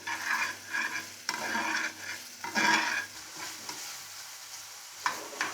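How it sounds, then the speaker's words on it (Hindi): Chicken frying in a pan with half a teaspoon of garlic powder is stirred, giving soft, repeated scraping swishes over a continuous close sizzle, with no voices. "अब हम इसे अच्छे तरीके से मिक्स करेंगे।"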